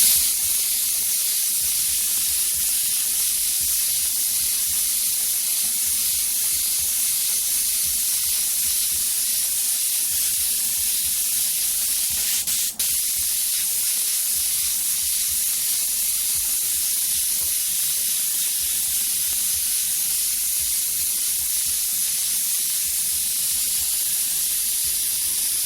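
Airbrush misting white paint, a steady unbroken spray hiss held close and loud with no talking, running continuously with only a brief faint tick partway through.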